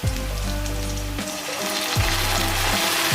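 Tomatoes fry with loud, steady sizzling in a hot pan as soy sauce goes in, with sharp bursts of crackle where liquid hits the oil, the hiss continuous and close throughout with no talking.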